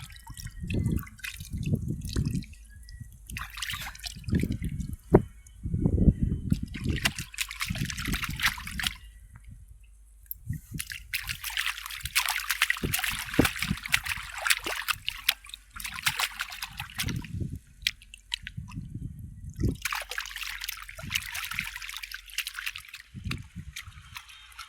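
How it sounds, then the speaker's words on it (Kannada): Water trickling and dripping over someone's feet outdoors, a long run of soft splashes and dribbles that swell and fade in waves, fairly faint and heard alone. "ನೋಡಿ ಕಾಲಲ್ಲಿ ನೀರು ಎಷ್ಟು ಚೆನ್ನಾಗೈತೆ"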